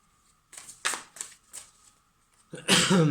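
Playing cards being shuffled and riffled in several short bursts, close and fairly quiet, ending with a louder, denser stretch of card riffling.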